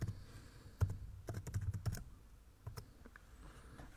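Light, irregular typing on a computer keyboard while code is written in the PyCharm editor, a run of close, soft key clicks with short pauses, no voice present.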